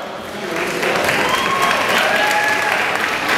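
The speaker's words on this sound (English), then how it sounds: "Give a big round of applause for Dina" Brief, dense applause rises from the audience at a 2011 bodybuilding championship as a presenter is welcomed on stage, a few whistles cutting through the steady clapping.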